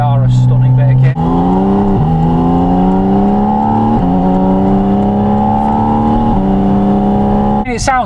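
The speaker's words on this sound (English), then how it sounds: "It sounds insane at the higher revs." Lamborghini Huracan Evo Spyder engine revving hard, loud close blips with pitch climbing in steps and holding high, a sharp roar at start and end, with voices in the background.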